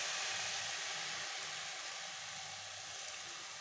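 A strong steady hiss of water on hot metal as it hits mixed leafy greens in a pan, broadband and continuous, with no one talking.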